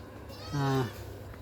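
A cow moos once inside a cowshed at a farmer's homestead on a river char: a single loud, drawn-out, tonal low about a third of a second long, close by, over faint background hiss.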